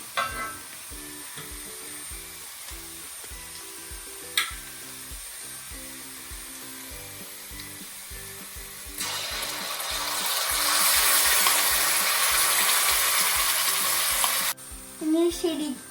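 Masala poured into a pan of cooked onions for a salmon head curry, with scraping stirs and a soft sizzle that later swells into a loud, hissing fry before cutting off, close and unvoiced.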